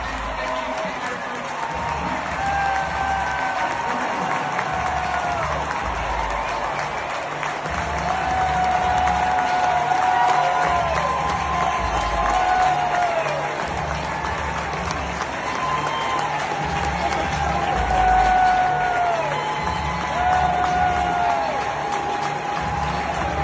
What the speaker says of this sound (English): This was the ovation the crowd gave him.